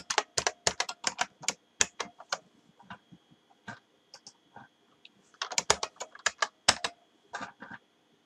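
Fast clacking keystrokes on a computer keyboard while code is being typed, coming in quick bursts with short pauses, close and crisp, with no talking.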